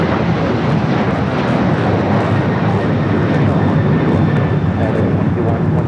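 An airliner roars steadily past at Los Angeles LAX airport, a loud continuous engine rumble filling the whole stretch with a faint whine above it.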